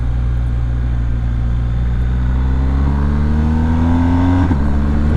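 A 2020 BMW R1250GS motorcycle accelerates on a damp road, its engine note rising steadily in pitch before a brief dip at a quick-shifter gear change, loud and close with steady wind rumble underneath.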